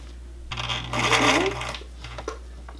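A sewing machine runs briefly while sewing an invisible zipper onto a lace gown, a short burst of whirring stitching with faint clicks, quiet and alone.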